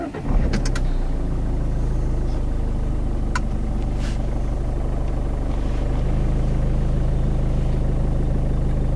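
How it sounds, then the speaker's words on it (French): A car engine cranks and catches, then settles into a steady, even idle with a low continuous hum that holds for several seconds, fairly close and alone. "Pour cela, mettre le moteur en route."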